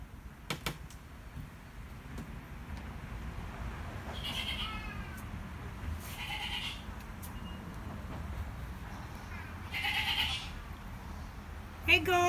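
Several goats bleat at intervals, their wavering calls rising over low background noise and a voice talking nearby.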